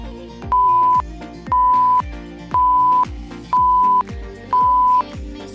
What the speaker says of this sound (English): Beeps don't mean stop. They mean we still got 5 seconds to work through it.